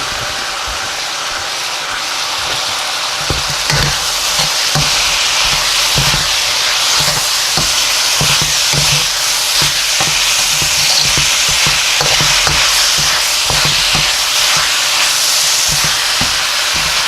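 Mushrooms and pork stir-frying in a hot pan, a loud steady sizzle throughout with repeated scraping stir strokes, close up and without talking.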